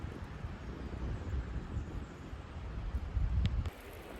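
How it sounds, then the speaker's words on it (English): Strong wind buffets the microphone outdoors on a wild trail, a continuous rough low roar with gusts that swell louder toward the end before easing, no voices. "Windy as heck."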